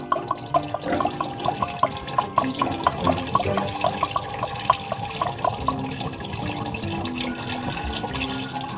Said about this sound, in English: just dump that right down the sink